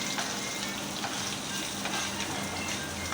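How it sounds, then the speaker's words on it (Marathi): Onion, coriander and green chilli sautéing with curry leaves for poha, a continuous close sizzle with light stirring scrapes, no talk. "कांदा टाकलेला आहे. कोथिंबीर, मिरची त्यांना परतवून घ्यायचं आहे."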